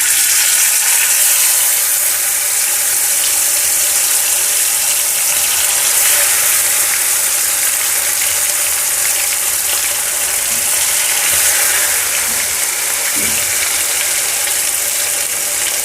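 Fish pieces fry in well-heated oil, giving a loud, continuous, even sizzle and crackle close to the pan that holds steady for the whole stretch without speech.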